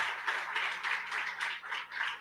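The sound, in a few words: audience applause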